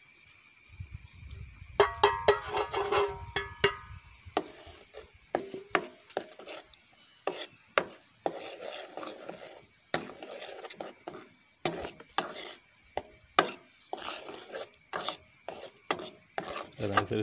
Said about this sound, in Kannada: ರವೆಯನ್ನು ಸೇರಿಸಿ ಚೆನ್ನಾಗಿ ಮಿಕ್ಸ್ ಮಾಡಿಕೊಳ್ಬೇಕು.